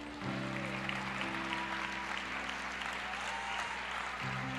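A church congregation claps steadily throughout, a dense, even wash of applause heard over a sustained low musical drone, moderately distant and without talk.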